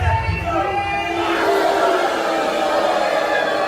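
A dense arena crowd at an Arizona Wrestling Federation pro wrestling show roars in a steady, loud wash of cheering, with a voice audible in the mix.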